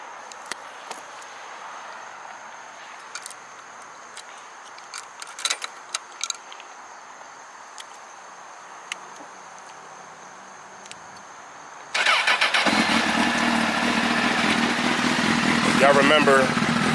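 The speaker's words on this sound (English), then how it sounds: "Let me do a startup for y'all." A 2006 Honda CBR1000RR sits quiet with a few light clicks and some talk, then its engine fires and settles into a loud, close, steady idle.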